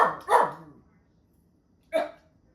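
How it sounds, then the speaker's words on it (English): A dog barks nearby: a quick double bark, a pause, then a single sharp bark, all fairly loud against a quiet background. "My dog."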